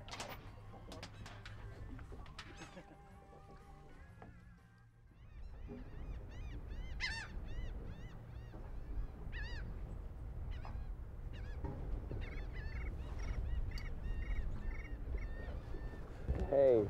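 Seabirds honking and calling around a boat offshore near Jacksonville, repeated nasal honks rising over a steady wash of wind and water, with a voice talking early on.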